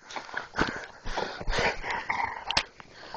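A dog gives a few short, sharp barks and yips close by, scattered irregularly with brief pauses between them.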